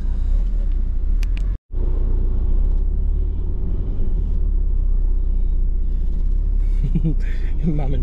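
Steady low traffic rumble of Chennai streets with a car engine droning nearby, a brief cutout, then faint horn-like tones near the end; people talk over it.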